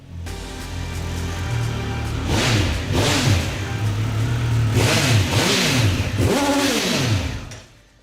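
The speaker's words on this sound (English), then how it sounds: "we've got even more of that triple bark from the 1200 RS" Triumph 1200 RS motorcycle with a triple-cylinder engine revving hard through its exhaust, a loud, close barking note swelling and falling in repeated blips over a steady running rumble, with no talk.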